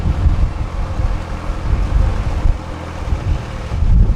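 Wind buffets the microphone on a moving narrowboat in a continuous low rumble with gusty swells, and no one speaks.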